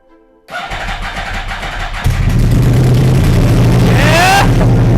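A Yamaha R1 sport motorcycle, previously wrecked, cranks and fires up, then settles into a loud, steady idle with a brief rev partway through.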